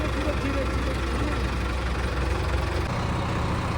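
A tractor engine idles steadily with a low rumble throughout at a gurdwara, with a slight change near the end.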